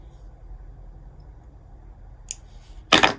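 Scissors snip off the tag end of a fishing line after tying a double dropper loop rig for rock fishing: a faint click, then one sharp, close cut near the end.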